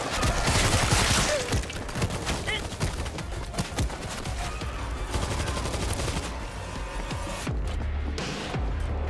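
Automatic turrets unleash rapid, dense gunfire in the World War Z video game, a loud continuous barrage of cracking shots and impacts that thins slightly toward the end, with voices faintly in the mix.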